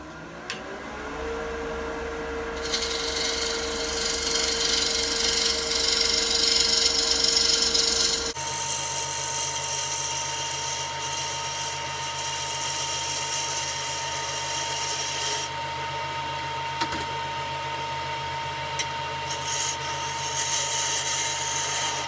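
A wood lathe turns a natural-edge bowl as the gouge makes a clean finishing cut, giving a loud, continuous whirring scrape with a steady hum underneath and no talking.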